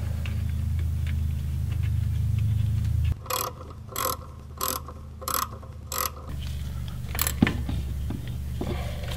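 Bolts on a brake wheel cylinder being tightened with a ratchet, about five evenly spaced bursts of clicking, then a few faint metallic knocks, close and alone after a low hum.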